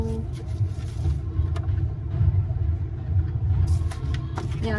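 A large, loud car passes near a beach campground at Westport in Northern California, giving a sustained low engine rumble and road noise that rises and falls over several seconds.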